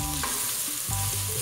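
Onion and garlic stirred into bacon and calabresa sausage frying in a pan, a close, steady sizzle with a few scraping strokes of the spoon.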